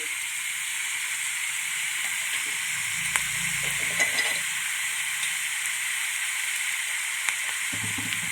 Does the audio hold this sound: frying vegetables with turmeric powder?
yes